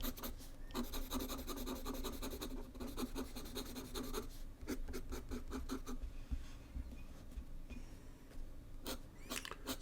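A Sailor King of Pens fountain pen with a 21K gold nib drawing on paper makes close, continuous scratchy strokes in quick rhythmic bursts, with short pauses between runs of hatching.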